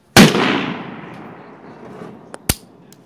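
A Ruger MKIII 22/45 pistol is fired at a shooting range: one sharp report with a long decaying tail, then a faint click and a second crisp shot, close and loud, with no talking.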